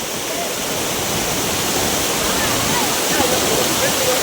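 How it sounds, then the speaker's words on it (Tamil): A loud, steady roar of rushing floodwater during a cyclone, broad and unbroken like a torrent pouring past close by. "பாருங்க தண்ணி எப்படி போகுது பாருங்க."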